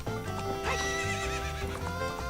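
A horse in Zelda Ocarina of Time whinnies loudly while hooves clip-clop steadily beneath, with game music running continuously underneath.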